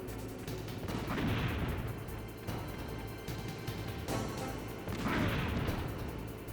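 Grenades go off in the game Metal Gear Solid as two muffled, rumbling blasts a few seconds apart over a dense, constant background of game noise, with no talking.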